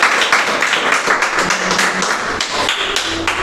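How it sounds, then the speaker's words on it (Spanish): Church congregation gives a strong round of applause, dense overlapping hand claps and taps filling the room at close range, with a few faint voices mixed in. "Vamos a darle un fuerte aplauso a la palabra de Dios"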